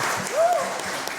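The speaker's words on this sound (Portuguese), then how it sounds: "Uma salva de palmas para os nossos mais pequenos também." Brief burst of congregation applause at a church missionary congress, a short wash of clapping with a faint voice briefly audible over it.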